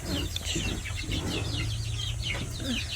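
Chickens in a coop cluck and chatter softly in an overlapping flock, with a steady low background hum underneath throughout.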